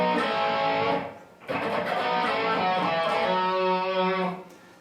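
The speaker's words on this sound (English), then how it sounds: "So we're doing kind of some pick scrapes." Electric guitar fill from a song in Baby Driver, dense distorted strummed notes with pick scrapes across the strings, loud and sustained with a brief gap in the middle, no talking.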